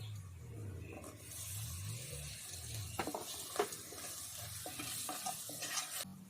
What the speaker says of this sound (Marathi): पुन्हा व्यवस्थित असं परतून घेऊ आता त्याच्यात टोमॅटो घालू